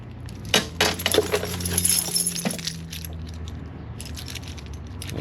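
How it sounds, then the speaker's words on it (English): Loose metal keys jangle and clink as someone sorts through a Snap-On tool box in a garage, with a quick run of sharp metallic chinks and rattles up close that gives way to quieter shuffling. "Keys."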